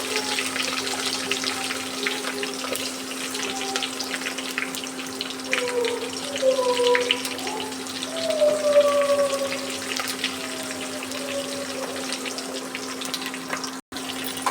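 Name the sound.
onions and curry leaves frying in a pan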